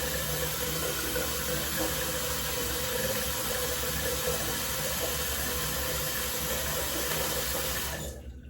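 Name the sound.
rinsing a razor under running water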